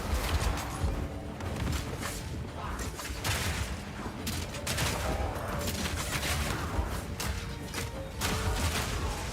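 Dense rapid gunfire from high velocity sniper rounds and gas grenades in the action game Path of Exile 2, loud and continuous with clattering mechanical impacts and bursts layered over each other.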